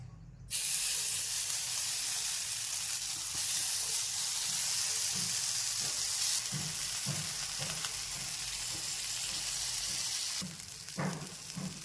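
Lentil appe batter poured into a hot appe pan over a lowered flame, hissing in a loud, continuous sizzle that holds steady for several seconds, with soft clicks of utensils and no speech.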